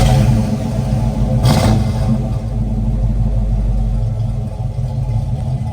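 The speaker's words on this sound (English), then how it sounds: "Car always starts right up." A 1969 Chevrolet Camaro RS/SS convertible with an aftermarket carburetor starts cold and revs, a loud deep engine rumble rising and settling with a brief sharp clatter early on, steady throughout.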